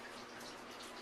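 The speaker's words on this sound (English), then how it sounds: "Now I take the water that was just boiled, and as you can see, I just try to distribute it evenly" Freshly boiled water is poured into a bin of mozzarella curd, making a soft, steady splashing rush that runs continuously at low volume.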